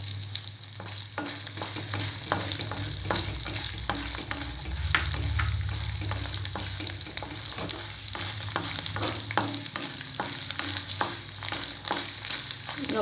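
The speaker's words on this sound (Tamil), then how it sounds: "பூண்டு நல்லா கொஞ்சம் நேரம் வதங்கட்டும்." Garlic cloves and dried red chillies fry in hot oil with chana dal, a steady close sizzle broken by frequent small pops and crackles, with no voices.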